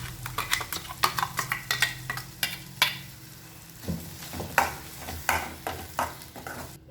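Ground roasted coconut paste is stirred into a simmering egg curry, with a rhythmic run of spoon scrapes against the pan over a light sizzle, a short pause, then more uneven stirring strokes.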